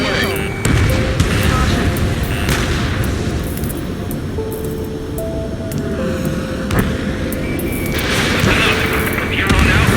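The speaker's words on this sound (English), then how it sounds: "Missile away." In the combat flight game Ace Combat 7, a missile launches and explodes: deep booms and blasts over a constant roar of jet engines, with radio voices talking throughout.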